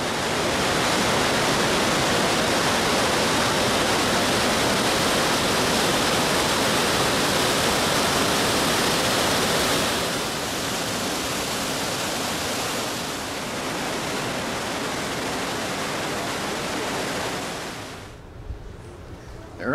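A steady, loud roar of a Norwegian waterfall fills the scene, broad and unbroken, easing slightly midway before cutting off near the end.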